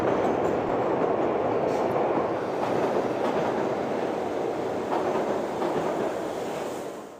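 A tram in the game Pegasus Prime rumbles along steadily, a loud, dense rolling roar that fades slightly toward the end, with no speech.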